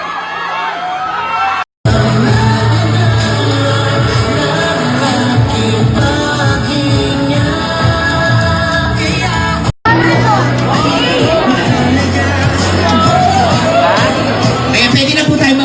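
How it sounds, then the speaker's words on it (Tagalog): A large audience at a movie premiere cheers, whoops and applauds loudly and continuously for the arriving stars, a dense roaring crowd with an announcer's voice mixed in. "salubungin na natin ng palakpakan at hiyawan"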